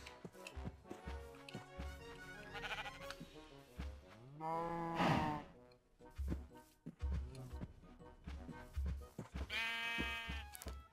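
Sheep in Minecraft bleat several times in a row, loud and close, with other livestock such as cows mooing among them and no talking over the calls.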